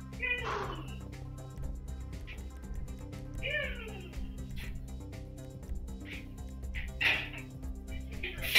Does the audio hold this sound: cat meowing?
yes